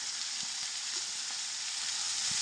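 Curry leaves frying in hot oil in a pan, a steady close hiss of sizzling with a few faint pops and no talking.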